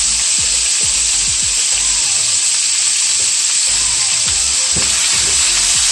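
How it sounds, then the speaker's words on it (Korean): Chopped green onion and garlic frying in oil in a pan, a loud, constant close sizzle and hiss with faint scraping and stirring knocks from a utensil. "이렇게 파와 마늘 향이 나도록 기름에 볶아주고요"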